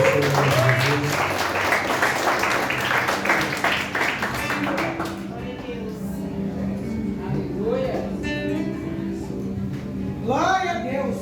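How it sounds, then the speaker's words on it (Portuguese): A church congregation claps along loudly and steadily during Portuguese worship for about five seconds, then the applause drops away and a voice speaks and sings over a quieter room. "Aplauda a Deus com as palmas e fortes"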